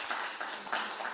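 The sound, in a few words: audience applause after a talk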